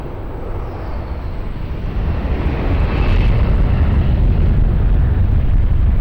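A jet airliner takes off from runway 20 at Lisbon Airport, a loud broadband engine roar that swells steadily and holds at full power, with no voices over it.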